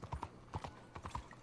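Horse hooves clip-clopping in Red Dead Redemption 2, a steady run of paired hoof strikes at close range on a hard surface with no talk over them.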